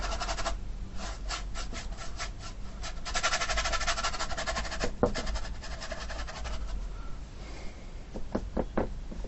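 A paintbrush scrubs paint onto a surface while a beginner's sunset lake scene is painted, giving a close, soft, continuous rubbing with quick bristle strokes toward the end and no speech.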